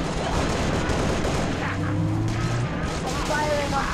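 Dense rattling gunfire and booming explosions in the video game Halo: Reach, loud and continuous, with a radio-style voice talking over the battle.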